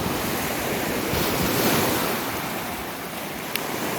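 Waves steadily wash in and draw back on a Lake Michigan beach, a continuous close, broadband surf hiss with gentle swells, a little wind noise and a brief click near the end.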